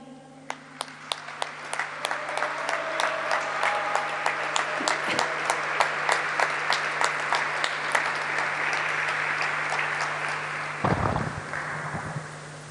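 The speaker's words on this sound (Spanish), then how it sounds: "Un nuevo aplauso para reconocer a nuestro compañero legislativo" A chamber of legislators applauding to honour a fellow lawmaker, sustained crowd clapping with steady rhythmic claps standing out, continuing for several seconds before ending with a few handling bumps near the microphone.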